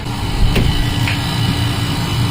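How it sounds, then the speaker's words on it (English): A steady low mechanical hum and rumble drones throughout from the air conditioning unit aboard a Pursuit 325 OS boat, with a faint click partway through. "it's actually the air conditioning unit that makes that noise."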